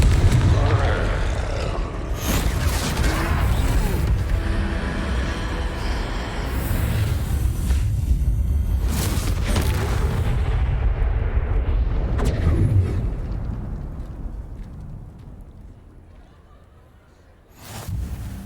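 Confringo fire spells blast during a troll fight in the video game Hogwarts Legacy, a dense run of loud booming explosions and rumbling impacts under game voices, fading toward the end before a final burst.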